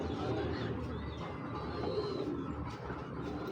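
A female chorui pakhi pigeon coos softly amid a low, continuous murmur of other pigeons nearby, with no talking.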